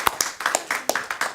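Several sharp hand claps at an Ukrainian commemorative event marking the 80th anniversary of the Crimean Tatar deportation, a short close burst of uneven individual claps rather than a dense crowd roar.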